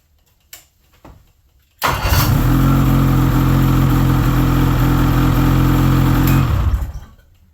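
Small engine cranked with a battery starter, heard after a couple of faint knocks as a loud, steady mid-pitched drone for about five seconds before it cuts off, close and with no talk.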